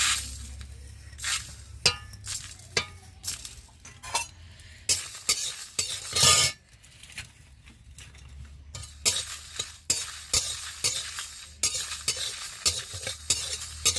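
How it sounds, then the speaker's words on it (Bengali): Dried red chillies and coriander seeds fry in a pan for a mango pickle spice mix, with frequent sharp scraping and clinking of a spatula over a low sizzle, close and continuous. "ধনেটা কিছুটা ভেজে নিয়েছি একসঙ্গে শুকনো লঙ্কা ধনে"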